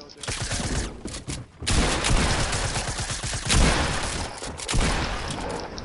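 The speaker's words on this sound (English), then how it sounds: "How come none of my bullets are hitting?" Gunfire during combat in a video game, dense continuous volleys of shots with a few short breaks, loud and close.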